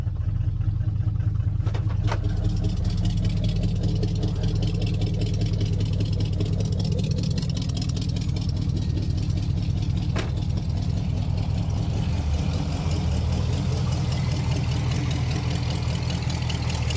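A Pontiac car engine idles close and loud, a steady low rumble with a slightly uneven beat, noted as needing a tune-up and having an exhaust leak, with a couple of faint clicks over it.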